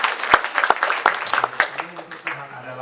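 A church congregation applauds during a Sunday Pentecostal service, scattered sharp claps building into a ragged burst over about three seconds, fairly close, with a voice talking through it.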